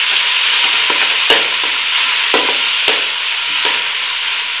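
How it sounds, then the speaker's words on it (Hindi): Onions sizzle and fry in hot ghee in a pan, a steady close hiss with a few sharp clicks and scrapes of stirring, no voices. "घी गर्म हो गया, अब इसमें हम प्याज डाल देते हैं। हल्का सा इनको फ्राई करना है"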